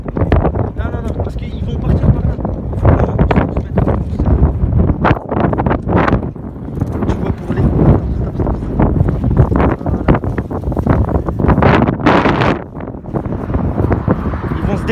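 Heavy wind buffets the microphone in steady gusts, a loud low rumble running throughout with occasional voices mixed in.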